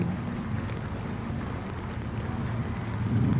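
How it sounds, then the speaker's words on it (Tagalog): Steady rain patters down in a constant hiss, close and even, growing slightly louder at the end. "Ganito po pag umuulan."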